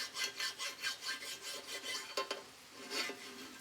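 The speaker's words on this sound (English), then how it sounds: "Usually I just take a small fine cut bastard file like this" Small fine-cut bastard file rasping across a metal casting from an Edison Diamond Disc gear train, quick rhythmic back-and-forth strokes, close and moderately quiet, with no talking.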